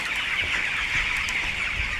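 A dense chorus of clucking chickens fills a large Nepali poultry farm housing about twenty thousand birds, a constant close murmur over the low hum of fans.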